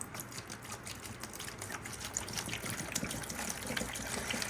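Dilute blue-tinted watering solution poured from a shaken container into a tub in an indoor grow room, a steady close trickling and splashing stream that holds fairly constant across the whole pour.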